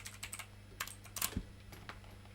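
Typing on a computer keyboard in a quiet room, a run of light irregular key clicks with a few louder taps in the middle, close and faint, with no talk.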